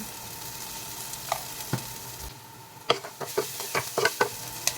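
White onion frying in a pan with a little salt and sugar for a carbonara, stirred until golden brown: steady soft sizzle under a run of sharp scraping and stirring clatters near the end, with no talking.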